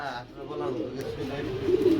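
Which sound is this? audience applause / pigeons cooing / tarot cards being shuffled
pigeons cooing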